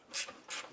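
A ratchet wrench loosening a 10mm bolt on a Honda Civic battery brace gives two short, quiet rasping clicks in quick succession.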